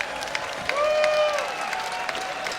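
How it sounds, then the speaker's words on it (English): A crowd at a Chamonix climbing World Cup speed final cheers and applauds the athletes, a dense wash of clapping and whoops under a tonal whistle-like sweep, with a voice over the public address. "Cheer from the crowd welcomes both of these athletes."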